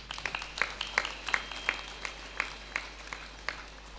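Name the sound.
audience applause at a stage event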